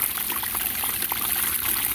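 Water leaks and trickles from a homemade power sluice, a close, continuous dribbling wash with small splashy flickers spread evenly through the moment.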